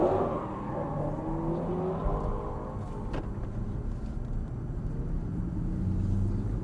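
An Aston Martin GT exotic race car in manual mode pulls out slowly at a Las Vegas driving experience, giving a low, steady engine rumble that stays fairly quiet and even throughout, with no talking.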